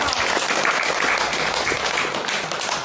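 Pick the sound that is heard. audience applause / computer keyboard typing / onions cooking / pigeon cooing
audience applause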